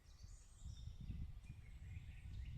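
Faint birdsong with thin chirps and whistles drifts over a low rustling, breezy forest background, distant and quiet.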